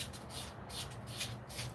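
Steady scratchy rubbing, rapid back-and-forth strokes of steel wool polishing a silver ring made from a 1921 silver dollar coin, close and fairly quiet.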